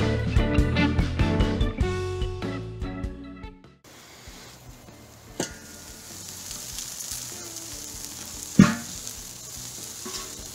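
Burgers sizzle on a Weber kettle charcoal grill in a steady, close hiss that begins after a short musical intro, with a couple of brief pops and crackles.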